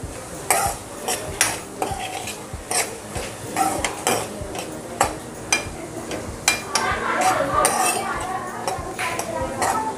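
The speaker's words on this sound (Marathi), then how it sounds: "कांदो लाल होईल त्यात परतून घ्यायचो." Onions frying in oil in a pan for a Konkani taro-leaf dish, a spoon scraping and clinking repeatedly against the metal over a soft sizzle, with voices now and then.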